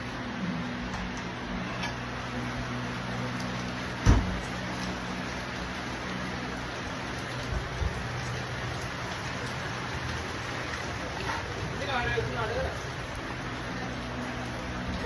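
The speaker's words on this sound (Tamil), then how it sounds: "தெரியுதா, மழை பெய்யுது." Steady rain falls outdoors as a continuous hiss with occasional drips and small thuds, moderately loud and alone without talk.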